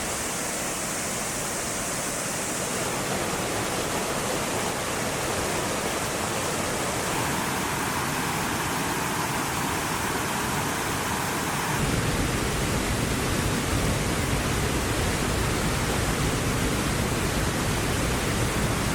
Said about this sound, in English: I think we are approaching one of the last waterfalls.